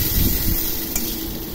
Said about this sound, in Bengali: তেলের মধ্যে আম একটু ভেজে নিয়ে